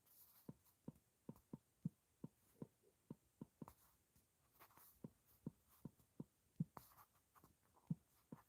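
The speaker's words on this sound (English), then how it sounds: "I'm actually typing right now" Soft, regular clicking taps, evenly spaced over several seconds, quiet and close, with no voices.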